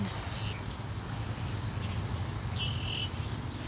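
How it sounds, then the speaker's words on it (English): A constant shrill drone of cicadas in trees fills the air, steady and unbroken, with a low rumble underneath and a brief bird-like chirp partway through. "there's cicada somewhere in these trees."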